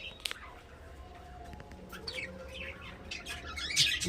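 A pair of budgerigars give quick, high chirps and squawks at a clay nest pot, fairly faint and scattered, with a low voice murmuring in the background.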